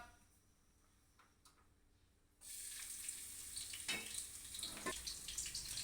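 A sudden loud sizzle as garlic hits hot oil, then a steady crackling fry with occasional stirring scrapes.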